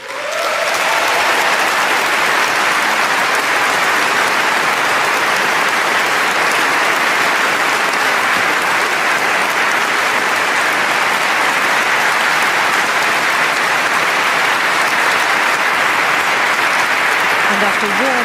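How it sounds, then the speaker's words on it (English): Warm, sustained applause from a large audience at the Nobel Peace Prize ceremony, dense and even clapping that fills the whole stretch without a break. "And after warm applause"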